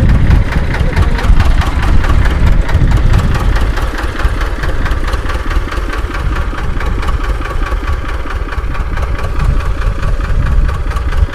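A two-cylinder Escort 335 tractor from 1996 idles close by, its loud, steady, knocking engine chugging evenly throughout with a strong low rumble and vibration.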